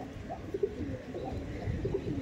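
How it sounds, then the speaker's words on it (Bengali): A Madrasi pigeon coos softly at close range, a few low rounded calls rising above a murmur of background noise. "দেখুন পায়রাটা দেখুন কত সুন্দর পায়রা"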